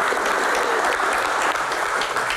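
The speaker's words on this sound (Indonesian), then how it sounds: "tepuk tangan" Dense, steady applause from a large audience at an Indonesian televised talk show, continuous clapping filling the room, with no speech over it.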